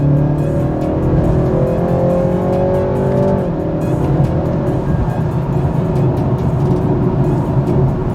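A 2021 BMW 330i M-Sport G20 accelerates with its engine note amplified through the cabin speakers, a loud rising drone that settles into steady road and engine rumble, heard from inside with no speech.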